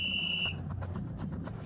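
A referee's whistle at a high school football game night, one sustained shrill blast at the start that cuts off after about half a second, leaving crowd and field ambience with no talk.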